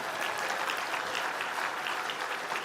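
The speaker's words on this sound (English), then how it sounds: "let's give our fiscal services group a round of applause" A convention audience applauds the fiscal services group with steady, dense clapping that holds at an even level throughout, fairly distant and without any voices on top.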